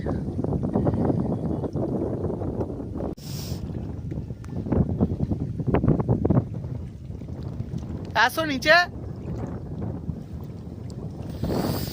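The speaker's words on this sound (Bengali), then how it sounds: "তোমাদেরকে কি বলবো এত ঠান্ডা হাওয়া দিচ্ছে" Strong, cold wind by a river buffets the microphone in loud, rumbling gusts outdoors, with a voice speaking briefly and a short electronic chirp partway through.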